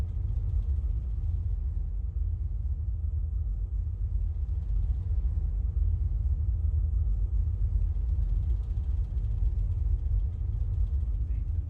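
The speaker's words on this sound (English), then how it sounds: "we quietly reversed out of the dock, heading for Holland some 30 minutes late" Stena Line ferry engine giving a steady, deep low rumble throughout as the ship reverses out of the dock at Harwich, a continuous droning hum with no change in level.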